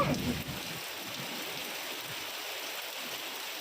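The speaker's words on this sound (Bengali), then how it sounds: "বৃষ্টি পড়ছে?" Heavy, torrential rain hissing continuously, a dense wash of noise with no talking, fairly close and even in level throughout.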